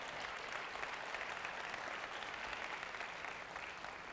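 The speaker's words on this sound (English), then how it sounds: "the tireless work done by everyone, I think deserves a round of applause" Steady audience applause fills a conference session hall, a dense, even wash of many hands clapping at moderate distance, sustained without a break and with no voices over it.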